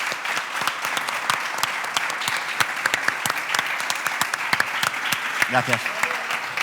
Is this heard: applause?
yes